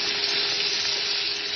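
Potatoes hit a hot frying pan and set off a loud, even, hissing sizzle that holds steady for the short span, with no voices.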